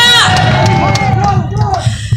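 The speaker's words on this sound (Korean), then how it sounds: "박수 부탁드리겠습니다" A crowd at a political party rally cheers and shouts in a loud swell, with whoops and raised voices over a dense backdrop of noise.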